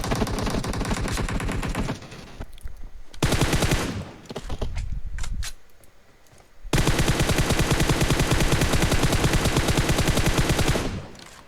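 Sustained automatic gunfire in PUBG Mobile, loud and dense rapid bursts filling most of the stretch, broken by a short gap with a few separate shots before the fire resumes and runs steadily to the end.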